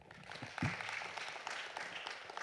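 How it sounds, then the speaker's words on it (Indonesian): A modest audience at an environmental press community opening ceremony gives quiet, distant applause lasting a couple of seconds. "Tepuk tangan buat SIEJ"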